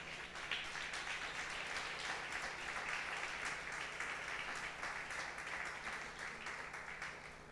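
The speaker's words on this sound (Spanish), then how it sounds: "Dele un aplauso a Jesús." A church congregation applauds steadily, with dense, continuous clapping that holds at a moderate, somewhat distant level throughout without a clear start or end.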